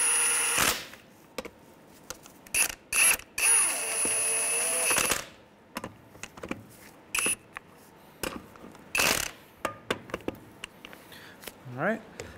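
A 19 millimeter tool snugs up lug nuts on a 2003-2011 Honda Element wheel, giving several short whirring bursts and metallic clicks with gaps between, close by, with some speech.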